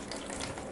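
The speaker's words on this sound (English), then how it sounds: "more water is coming out of this motor" Water runs and trickles steadily from a Harley-Davidson Evolution motor as it is taken apart, a close, continuous splashing wash with no voices.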